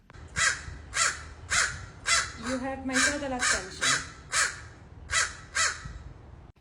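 A crow caws loudly and repeatedly in a steady rhythm of about a dozen harsh calls, and a person speaks briefly under the calls partway through.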